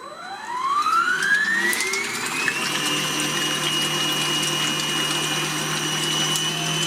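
HAUSWIRT M5 stand mixer whipping five egg whites with a pinch of salt ramps up to maximum speed, its motor whine rising in pitch over about two seconds and then holding a steady, loud high hum.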